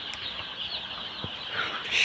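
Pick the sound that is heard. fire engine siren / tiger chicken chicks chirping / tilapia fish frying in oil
tiger chicken chicks chirping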